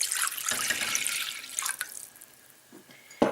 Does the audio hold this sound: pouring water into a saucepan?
yes